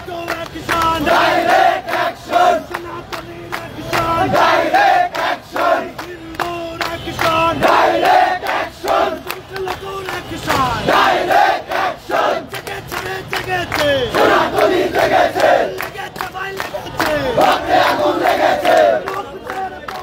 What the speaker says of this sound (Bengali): তারা স্লোগান দিচ্ছেন, বিভিন্ন ধরনের স্লোগান